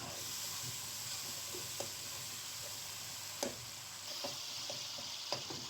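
Green chillies sizzling in hot ghee while bhindi masala cooks, a steady frying hiss with a few sharp pops and crackles scattered through it, close and fairly quiet, no voices.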